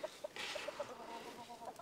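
Chickens cluck softly and peck at a covered grain feeder on a farm, with quiet, distant repeated clucks over low outdoor ambience.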